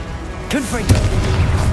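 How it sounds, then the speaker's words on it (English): A fire-blast spell explosion from the video game Hogwarts Legacy, a short booming burst with a quick sweeping whoosh that starts about halfway through and leaves a low rumbling tail. "Confringo."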